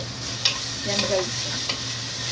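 Food sautéing in a pan, a steady close sizzle with a few sharp stirring scrapes and clicks against the metal.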